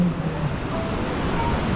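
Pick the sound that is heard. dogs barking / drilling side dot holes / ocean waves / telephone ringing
ocean waves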